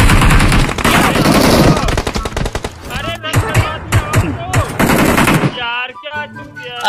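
Rapid bursts of M4 assault rifle fire in the video game BGMI, loud and close, with sustained automatic volleys followed by shorter broken bursts while a voice talks over it.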